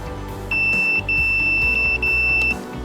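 Steady electronic beeps from a multimeter continuity test on a headlight cable of a 2003–2006 Porsche, sounding as three close, loud, sustained tones with short gaps between them, no talking.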